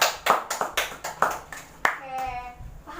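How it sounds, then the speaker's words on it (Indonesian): A classroom group gives a short burst of uneven applause, with several quick rounds of clapping at close range. A voice speaks briefly as the clapping fades. "Tepuk tangan dong."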